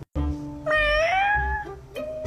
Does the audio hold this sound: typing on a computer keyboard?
no